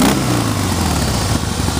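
A 2016 Harley-Davidson Heritage Softail Classic engine running steadily nearby, a loud, continuous low rumble with a throbbing idle and no voices.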